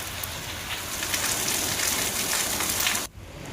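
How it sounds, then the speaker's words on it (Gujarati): Monsoon rain falling steadily over a town, a dense even hiss of drops that cuts off sharply near the end. "રાધનપુર શહેર તેમજ ગ્રામ્ય વિસ્તારમાં ધીમી ધારે વરસાદ વરસ્યો"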